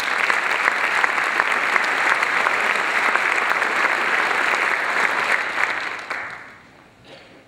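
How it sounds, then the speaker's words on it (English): Audience applause at an academic awards banquet, a loud sustained wash of clapping from a large room that holds steady for about six seconds, then fades out. "I think we owe all of you one last round of applause"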